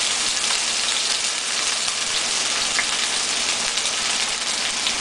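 Hamburger patties frying in a pan, a steady, close, even sizzle and crackle that holds level throughout with no voices over it.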